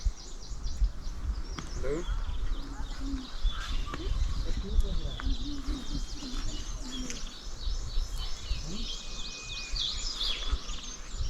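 Birds call in a dense Himalayan blue pine forest near Battal, with scattered chirps and short whistled notes at a moderate distance over a steady breezy outdoor background.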